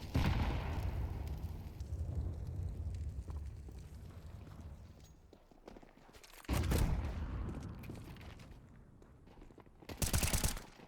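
Gunfire rings out in a Counter-Strike match, rattling weapon sounds under a fading background din, then a sharp loud burst midway and another near the end.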